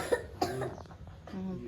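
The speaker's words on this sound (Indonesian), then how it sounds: "Batuk." Person coughing, two sharp close coughs in quick succession followed by a softer throat sound, with faint talk nearby.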